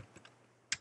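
Code being typed on a computer keyboard: a handful of light, irregular key clicks close by, the last two sharper and louder, over quiet background.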